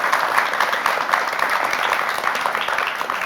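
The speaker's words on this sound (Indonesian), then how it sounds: "Mana tepuk tangannya?" Studio audience applauding university students from Universitas Nasional Jakarta at a televised discussion event, a dense steady wash of clapping lasting throughout, moderately loud with no talk over it.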